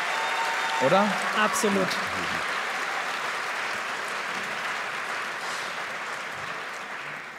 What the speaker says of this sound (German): Vielleicht nochmal einen Applaus für die beiden